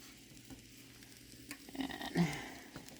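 Chicken cordon bleu sizzling in butter in a crock pot on medium-high heat, a steady soft frying hiss with occasional louder pops and a stirring scrape.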